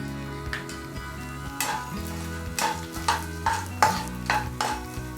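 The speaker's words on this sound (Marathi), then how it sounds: "डिंक जो आहे तो आपण थोडा थोडा करत फ्राय करणार आहोत" Small pieces of edible gum (dink) frying batch by batch in hot oil for laddoos, with a steady sizzle broken by repeated stirring and scraping clinks from a nearby spoon, no talking.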